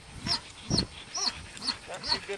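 A dog fetching during a disc golf round outdoors gives a few short, quiet barks and yips spread through the moment, while a person speaks nearby.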